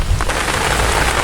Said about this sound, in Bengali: তুমুল বৃষ্টি, তুমুল বৃষ্টির মধ্যে যাইতে চাই